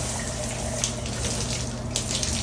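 Tap water runs steadily while hands are rinsed of soap lather under hard water, a close, continuous splashing gush with small irregular spatters.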